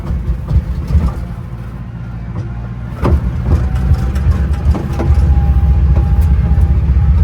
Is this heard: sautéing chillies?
no